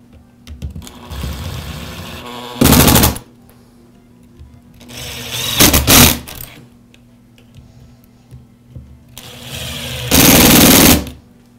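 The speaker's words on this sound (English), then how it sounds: "Now reinstall the 4 transmission screws." Cordless power driver running in three loud, close bursts of a few seconds each while driving transmission screws back into a Milwaukee cordless drill, with quieter handling noise between runs.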